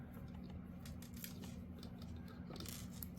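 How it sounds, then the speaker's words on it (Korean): Scissors cutting giant chunky yarn while making a marshmallow bag, heard as faint, close snipping and rustling over a low hum, with no speech. "손 부분을 꺼내서 좀 잘라주세요"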